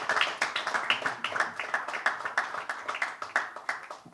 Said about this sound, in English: big round of applause for Pranav Rohira.